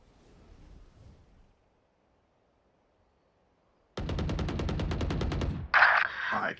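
Rapid automatic gunfire in a video game, a loud close burst of evenly spaced shots after a quiet stretch, followed by a sharp brighter blast at the end.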